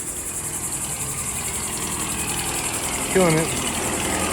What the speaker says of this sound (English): She's on the blower